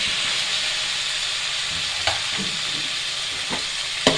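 Chopped tomatoes added to hot oil with chili powder, frying in a pan as a fish masala curry is made: a steady close sizzle and hiss with a few sharp stirring clicks and scrapes.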